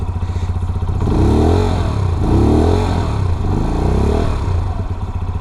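A QJMOTOR SRK 125 S motorcycle engine revs up loudly and close as the ride begins, with rising and falling throttle sweeps and a steady rumbling beat underneath.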